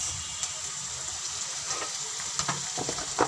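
Garlic paste fries in a pan with onions, giving a soft, steady sizzle with a few light scraping stir sounds near the end, close and fairly quiet.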